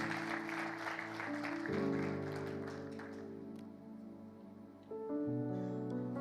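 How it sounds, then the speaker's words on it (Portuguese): Church congregation applauding during a worship service, the claps mixed with sustained organ or keyboard chords that swell and shift throughout; moderately loud and continuous, with no clear speech. "Você pode aplaudir o Senhor?"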